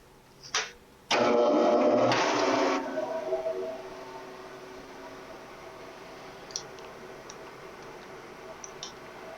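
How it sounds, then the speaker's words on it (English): A phase converter in a machine shop starts with a sharp click, then a loud electric whine and hum that surges for about two seconds before settling into a steady quieter running drone with faint occasional ticks. "Let me go get the phase converter started."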